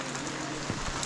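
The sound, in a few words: heavy rain falling at Chopta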